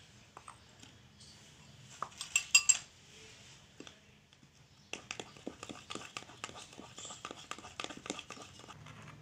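Oreo biscuit cream being mixed into cupcake batter in a bowl: quiet clinks and scrapes of a spoon against the bowl, a brief burst of rattling, then a run of rhythmic tapping strokes, with soft murmuring in the background.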